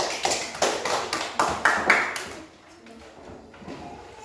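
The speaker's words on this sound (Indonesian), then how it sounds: "tepuk tangan dulu untuk Marsha" A small group of primary-school pupils claps in a classroom, about half a dozen distinct, evenly spaced claps that stop abruptly, followed by quiet room sound with faint talk.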